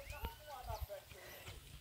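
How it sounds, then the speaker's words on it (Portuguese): A horse on a farm smallholding walking into deep, boggy mud, with soft irregular hoof thuds and a brief whinny, faint and mixed with people talking nearby. "Bota o cavalo logo dentro pra ver se atola"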